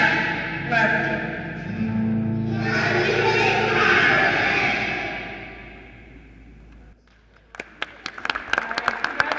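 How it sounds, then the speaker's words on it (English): Audience applause at a Board of Education meeting honouring the Teacher of the Year, a burst of scattered clapping that rises after a stretch of voices and background noise and continues to the end. "Well-earned round of applause to our Teacher of the Year, Miss Amanda Conaway."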